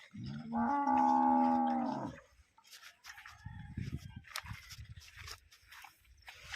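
A cow on a farm lets out one long, loud, close moo lasting about a second and a half. Softer shuffling and low rustling noises follow.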